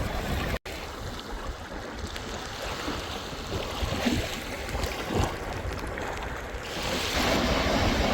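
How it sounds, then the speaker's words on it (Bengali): Sea waves wash onto a beach on the Barguna coast of Bangladesh, a steady broadband roar of surf with wind that swells slightly louder near the end, with no voices. "যেখানে সমুদ্রের ঢেউয়ের শব্দটাই বাজে নীরব সুরের মতো"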